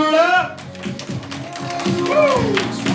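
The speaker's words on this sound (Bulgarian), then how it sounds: "Аплодисменти, моля!" Children clapping at a ninth birthday party, quick scattered claps mixed with excited voices and shouting close by.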